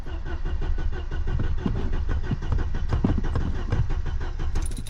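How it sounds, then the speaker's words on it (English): A classic barn-find car engine cranks and sputters with its fuel pump relay bridged, a loud, close, uneven chugging that strains without settling into a clean idle. "I've bridged those two pins, so let's see if the car starts."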